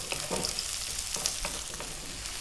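Onion frying in a pan with garlic and ginger, a steady close sizzle broken by light stirring scrapes, with no voices.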